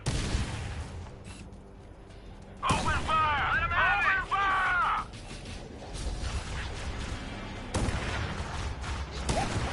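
Sniper rifle shots from a Halo video game, a sharp blast cutting in over steady game noise with a burst of warbling alien chatter, followed by another heavy report near the end.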